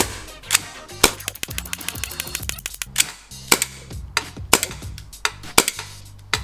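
A 1911 gas blowback airsoft pistol fires a rapid string of sharp, clacking shots with a mechanical slide snap on each, about a dozen irregularly spaced cracks over several seconds, close and loud with no talking.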